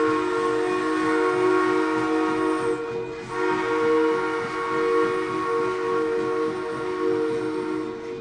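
A steam locomotive pulling a scenic excursion train sounds a long, steady whistle-like tone throughout, layered over a low, continuous rolling rumble of the train.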